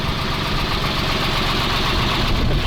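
A Magirus 170D truck engine idles in a steady, continuous low rumble with broadband vibration, heard from inside a camper conversion cab, loud and unbroken with no talk.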